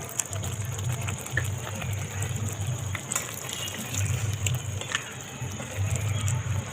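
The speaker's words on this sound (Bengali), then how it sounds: "বাকি ডাবের জলটাও দিয়ে দেবো" Coconut water splashes and gushes into a pot of prawn curry cooking over a wood-fired clay stove, a close, uneven pour with bursts of liquid noise.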